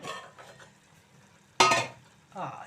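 A spoon scrapes and stirs spinach and onion curry in a pan, with soft scraping strokes, one sharp loud scrape in the middle and a shorter stir near the end.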